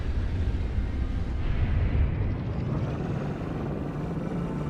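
A spaceship engine in No Man's Sky rumbles low and continuously, a dense droning roar that swells slightly early on and then settles, with no voices.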